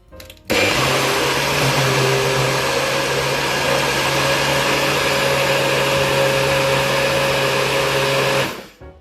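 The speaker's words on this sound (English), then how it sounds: "Now we're gonna start this blending." A kitchen blender whirs loudly and steadily as it purees fruit for juice, starting abruptly, holding a constant motor whine for about eight seconds, then stopping, with no talk.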